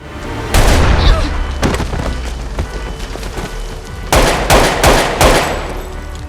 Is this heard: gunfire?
yes